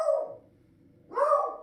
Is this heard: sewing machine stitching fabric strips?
no